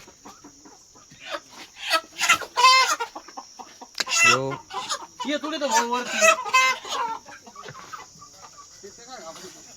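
Hens clucking in short bursts close by, mixed with people talking over them.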